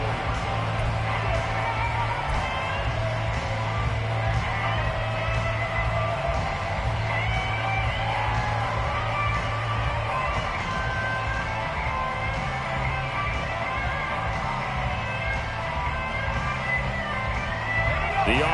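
A football stadium crowd keeps up a broad, steady roar with scattered yells and whoops, heard continuously beneath commentary.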